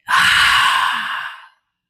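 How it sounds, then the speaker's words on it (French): A single forceful exhale pushed out through the mouth during a guided breathing meditation, close and loud, a breathy rush lasting about a second and a half before fading to silence. "tu souffles puissamment par la bouche pour te décharger"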